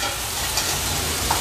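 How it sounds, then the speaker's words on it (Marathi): Drumstick pods sauté in a pan over a medium flame, giving a steady, close-up sizzle with a soft crackle throughout. "एक मिनिटभरासाठी तरी मीडियम फ्लेमवर मी हे छान परतून घेतलंय।"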